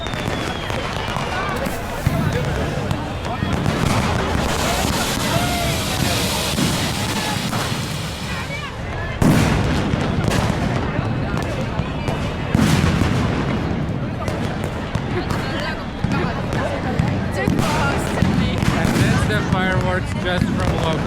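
Close, loud fireworks set off by locals in Mumbai during Diwali: dense, continuous crackling and booming bursts for about twenty seconds, with a few sharper blasts standing out and some voices in the mix.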